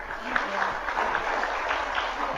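Audience at an Islamic sermon by Ustadz Evie Effendi clapping steadily, a fairly even, moderately loud patter of many hands filling the room throughout.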